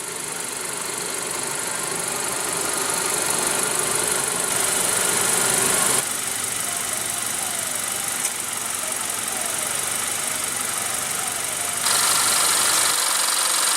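Honda CR-V 2016 with a 2.4 liter inline four-cylinder engine borrowed from the Accord, running steadily: a continuous close engine hum and vibration at a constant level, heard alone.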